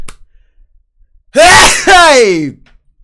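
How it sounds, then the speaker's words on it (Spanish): A single loud sneeze bursts out right at the microphone, a short sharp intake followed by an explosive, drawn-out release, in an otherwise quiet moment. "Estoy a punto de estornudar."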